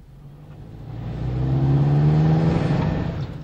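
A car being test-driven moves off with a steady engine hum that rises and holds as it speeds up, fairly close and loud, with no talk over it.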